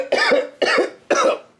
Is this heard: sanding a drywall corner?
no